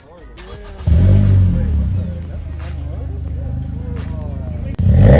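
A 10th-generation Honda Civic with an Invidia N1 catback exhaust revs up sharply, then holds a loud raspy drone before a brief dip and another blip, close by with people talking.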